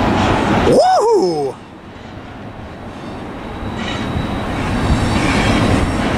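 A long freight train rolls past on the Tehachapi line, its wheels clattering and squealing loudly up close, then fading to a steady rumble of cars; a voice exclaims briefly over it near the start.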